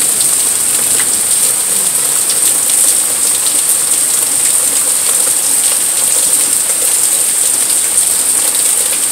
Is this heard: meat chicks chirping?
no